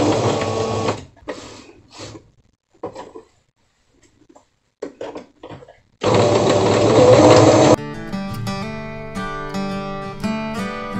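A domestic sewing machine stitches fabric for a hexagon organizer basket in short, stop-start bursts, then one longer steady run, loud and close, followed by music.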